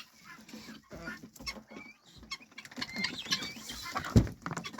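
Chickens cluck and cackle nearby in a farmyard flock kept alongside quail, with scattered rustling and pecking sounds; roosters among the flock.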